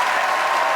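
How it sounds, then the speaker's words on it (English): Audience applause for a school choir at a senior school semi-final, a dense steady patter of clapping filling the whole short moment. "a big round of applause for St George's"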